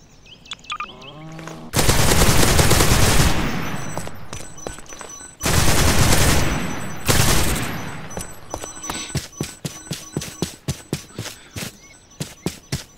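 Destiny 2 gun fired in Garry's Mod: two long roaring bursts of rapid automatic fire, then a run of a dozen or so evenly spaced single shots, loud and close with no talk.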